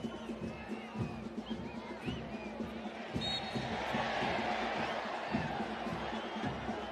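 Large stadium crowd at an El Salvador versus Trinidad and Tobago Concacaf Nations League football match, a steady distant roar that swells slightly midway, with no clear talk over it.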